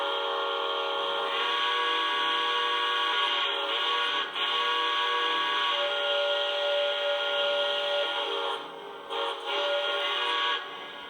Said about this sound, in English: here is a sampling of the quillable whistle